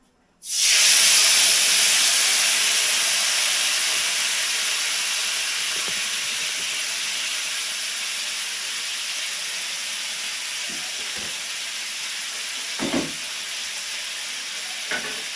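Cumin and turmeric paste hits hot oil in a pan for a thin fish curry with potato and pointed gourd, bursting into a loud sizzle that slowly eases into a steady frying hiss, with a few light stirring knocks.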